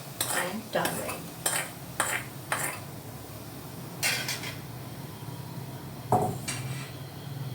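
Fried garlic being scraped from a pan into an empty bowl, a series of sharp metallic clinks and taps of a spoon against cookware, spaced irregularly over a quiet background.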